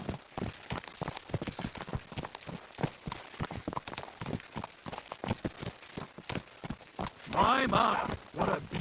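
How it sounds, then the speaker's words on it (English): Horse hooves clip-clop steadily in Kingdom Come: Deliverance II, a continuous rhythmic patter of hoofbeats heard close by, with character dialogue running over them and a louder burst near the end. "My, what a beautiful horse."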